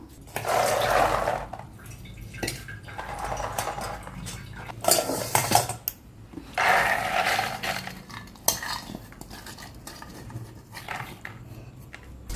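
Soaked chickpeas being drained of water in a home kitchen, with repeated clattering of a metal vessel and strainer, splashy water trickles and scraping handling noises close by, no talking.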